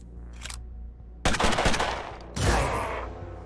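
Two loud bursts of automatic gunfire in the turn-based tactics game Mutant Year Zero, each lasting about a second, after a faint rapid rattle; close and dominant, with no talking.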